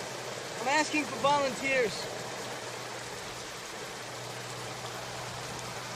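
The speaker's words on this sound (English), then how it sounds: "With this rain, this could be the cover we need." Steady rain falls as a constant soft hiss in a wartime setting, with someone speaking briefly over it.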